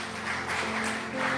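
A church congregation applauds, a soft, steady patter of many hands clapping at a moderate distance, faint and continuous through the short moment.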